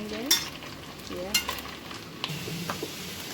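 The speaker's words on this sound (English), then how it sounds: "bacon. Still frying. Still frying." Bacon frying in a pan during home cooking, a steady soft sizzle with occasional sharper crackles and pops, moderately close, with no talk.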